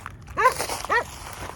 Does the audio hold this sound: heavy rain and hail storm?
no